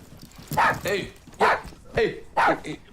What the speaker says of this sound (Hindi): ये कैसा कुत्ता है, घर वालों पर ही भौंकता है।